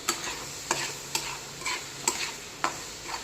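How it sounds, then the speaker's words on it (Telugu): Ginger garlic paste fries in a pan with a steady soft sizzle while a spoon scrapes and stirs it in regular strokes, about one every half second, close and clear with no talking. "ఈ అల్లం వెల్లుల్లి పేస్ట్ కూడా పచ్చివాసన పోయేలాగా ఎంచుకుందాము."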